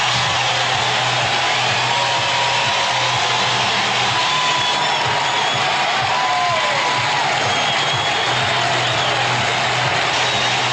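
Baseball stadium crowd roaring for Rickey Henderson's record stolen base at second, a dense, sustained wall of cheering and applause with a low hum underneath, steady for the whole stretch.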